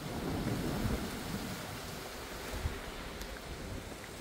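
Strong storm wind roars in steady, heavy gusts outdoors beside a motorhome during a tornado-level storm, loud and close with a deep rumbling low end and no voices.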